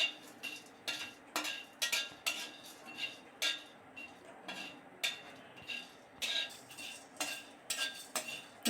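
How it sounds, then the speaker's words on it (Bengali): Whole spices (cumin, fennel, black pepper, cardamom, cinnamon) dry-roasted in a pan over low heat for a beef and cauliflower curry, with repeated scraping and clinking stirs in an irregular rhythm, fairly close and moderate in level. "এই মশলাগুলো হালকা আঁচে 1 মিনিট ভেজে নিব।"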